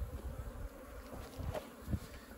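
Apis honey bees buzz faintly around a termite mound in an open pasture, a soft continuous drone with low rumbling background noise.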